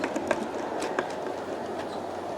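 A BNSF G scale model train pulled by two engines runs on outdoor stainless steel track, giving a steady close rolling rumble with faint wheel clicks throughout.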